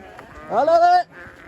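A single loud ewe bleat rings out close by, a wavering nasal cry lasting about half a second, as the flock is let out to pasture for the season, with fainter farm noise around it.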